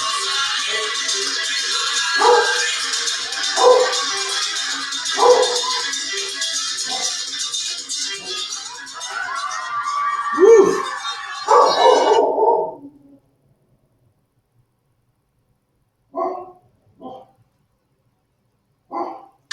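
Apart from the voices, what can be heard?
dog barking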